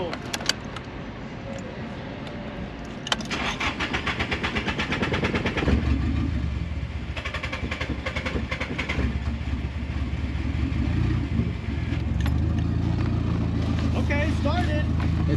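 A Nissan S13 engine with a suspected fuel problem cranks repeatedly with clicks and churning, then catches and settles into a steady low idle, with people talking over it.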